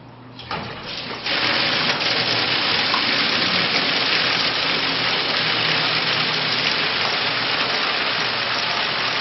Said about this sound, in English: Start the flow of water and let the instrumentation collect the data.